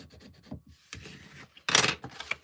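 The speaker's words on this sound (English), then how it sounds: "I'm going to fold it back that way and give it a good burnish" A burnishing tool rubs firmly along the folded crease of a paper chocolate orange gift box: a few soft scraping strokes, then one louder, rasping pass close to the microphone.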